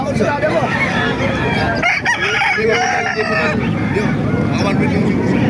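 A rooster crows loudly and nearby at a Tuesday market in Calumpit, with other chickens clucking and crowing around it and voices talking in the background.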